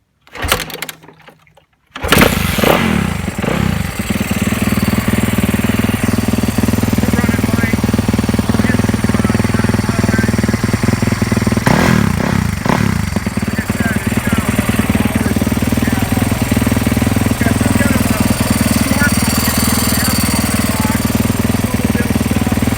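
A Yamaha YZ450F Timbersled snowbike engine cranks after a brief quiet moment, catches and settles into a loud, steady running rumble that carries on alone for the rest of the time.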